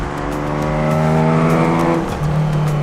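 A classic Ford Capri on a race track, its engine droning loud and close with a steady harmonic tone that climbs slightly, then drops as the driver shifts gear near the end.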